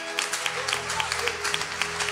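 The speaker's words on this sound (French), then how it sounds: "Acclamons pour le Saint-Esprit." A church congregation bursts into applause, a short burst of dense clapping mixed with voices and cheering in a reverberant room.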